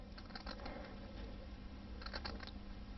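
Scissors snip fine lines into the end of a piece of green pre-cut felt, a quiet run of small close clicks in two short bursts over a low background hum.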